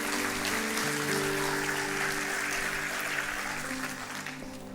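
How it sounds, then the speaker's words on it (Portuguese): Church congregation applauding steadily, a dense even wash of clapping at moderate level that continues throughout and eases slightly toward the end. "Dê o melhor aplauso que você pode dar ao Senhor."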